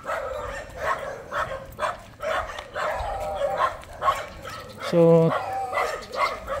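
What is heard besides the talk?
dog barking near beach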